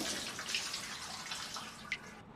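Shower water runs in a steady, soft hiss of spray and splashing, faint and continuous in a home bathroom, with a brief louder splash near the end.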